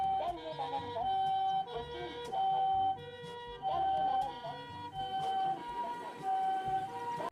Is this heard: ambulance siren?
yes